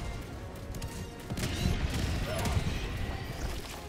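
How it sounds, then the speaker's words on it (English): Barrage explosions called in during Helldivers gameplay: a dense, continuous rumble of distant blasts and crackling impacts filling the whole stretch, with no clear separate hits. "Called in a barrage."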